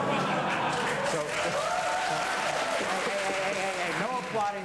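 An audience at a 2001 FTAA summit panel discussion applauds in a steady wash of clapping that holds throughout, while someone speaks over it.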